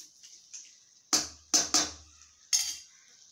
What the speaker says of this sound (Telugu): మసాలాంతా ఈ క్యారెట్ కు ముక్కలకు పట్టుకునే విధంగా మొత్తం అంతా కలిసేటట్లుగా కలపాలి